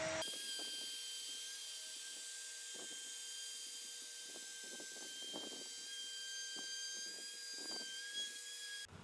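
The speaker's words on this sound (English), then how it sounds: "We've got the bearing gliding along the template, and we're going to move the router in a counterclockwise direction" Wood router with a bearing-guided bit cutting along a wooden template, a steady high-pitched motor whine running throughout with faint intermittent cutting noise underneath, close and continuous.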